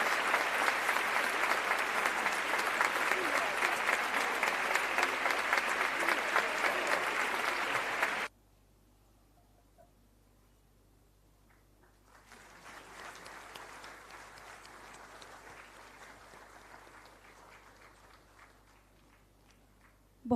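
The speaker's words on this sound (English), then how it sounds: "Please give a big round of applause," Audience applause at an inaugural ceremony for a digital forensics centre, loud crowd clapping that stops abruptly, a quiet gap, then a second, fainter and thinner round of clapping from the hall.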